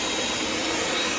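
A professional floor cleaning machine, a push-style vacuum scrubber, runs with a steady, loud, even roar and no breaks.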